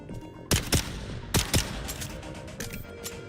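Gunshots in the video game Dune: Awakening, a few sharp loud cracks in two close pairs followed by fainter scattered shots, over a steady background of game noise.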